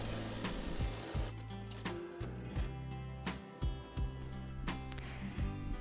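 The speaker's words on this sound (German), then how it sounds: "Wenn ihr dann über die Schrittnaht näht" A sewing machine stitches the crotch seam of a pair of overalls, running in short close bursts of rapid mechanical whirring broken by brief pauses, with no voices.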